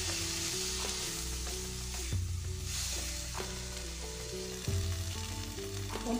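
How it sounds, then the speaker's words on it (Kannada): Corn masala chaat with salt and green chillies fries in a pan, a steady close sizzle with soft stirring scrapes and clinks throughout, no voices. "ಇವಿಷ್ಟನ್ನು ಹಾಕಿ ಚೆನ್ನಾಗಿ ಫ್ರೈ ಮಾಡ್ಕೋಣ."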